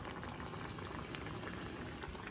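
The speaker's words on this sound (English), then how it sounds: "So this has been boiling for 3 minutes for the second time" Quince jam boils steadily in a pot during its second three-minute boil, a dense continuous bubbling and popping at close range with no voices.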